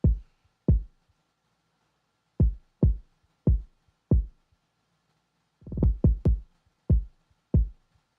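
Punchy kick drum from a beat being EQed with added highs and presence, struck alone in a sparse pattern of sharp, loud thumps with gaps between hits and a quick cluster of several kicks near the end.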